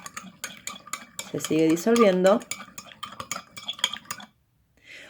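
A spoon stirring sugar into water to dissolve it, quick metallic clinks and taps against a glass with a brief ringing tone midway, close up, ending in near silence.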